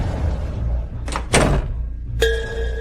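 A door is handled in an indoor scene, with a couple of close knocks and thumps followed by a sharp latch clack.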